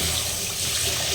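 Tap water runs steadily into a pot of leftover vegetables from the night before, a close, loud, continuous hiss of pouring water filling the vessel with no break and no voices.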